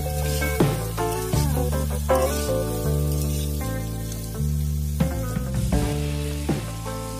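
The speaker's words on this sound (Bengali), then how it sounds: "আলু আর লাল আলু সবকিছুকে ফোড়নের সাথে 1 মিনিট নাড়াচাড়া করে নিতে হবে।" Potatoes and sweet potatoes are stir-fried with tempering spices, giving a soft sizzle beneath prominent background music.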